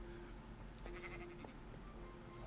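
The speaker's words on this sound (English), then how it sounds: "I heard a sheep." A Minecraft sheep bleats a few times at moderate distance over a steady low game ambience, with no voices.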